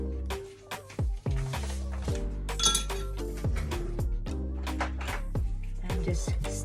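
Yeast and sugar stirred in a glass bowl, the spoon clinking steadily and brightly against the glass in a quick repeated rhythm, close up and loud, with brief speech in the background.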